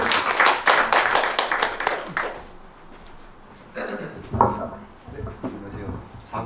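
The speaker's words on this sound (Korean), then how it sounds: "우리 박수로 환영합니다" Sharp rhythmic handclaps from a church gathering welcoming someone forward, a quick run of claps that tapers off, followed by scattered knocks and movement with voices in the room.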